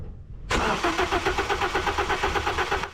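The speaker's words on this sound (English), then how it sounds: "Now it is finally time to crank the engine, and I usually crank it 5 to 6 times." Toyota Corolla E12 engine cranking over on the starter during a compression test with the fuel injectors disconnected, a steady rhythmic chugging that starts abruptly after a brief silence and holds an even pulse throughout.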